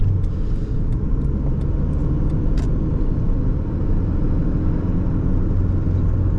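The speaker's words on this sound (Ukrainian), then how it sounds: "Трошки трафіку." Road noise heard from inside a moving Nissan Micra, a heavy continuous rumble and engine drone with faint light ticks over the top.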